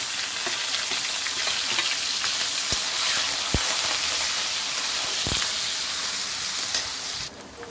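Onion, curry leaves and garlic fry in hot oil with popped mustard and fenugreek seeds, a loud steady crackling sizzle with a few distinct knocks from stirring that eases off at the very end, and no talking.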